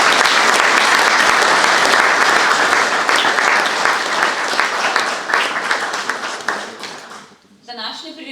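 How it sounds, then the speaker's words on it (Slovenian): An audience at a book presentation in a cultural hall gives sustained loud applause that gradually fades, ending with a brief burst of voices after the clapping dies down. "postavim še en aplavz"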